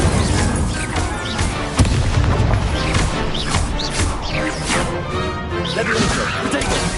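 Incendio fire spell cast repeatedly in a Hogwarts video game, dense loud crashing and whooshing bursts layered with other spell effects, continuous and busy throughout.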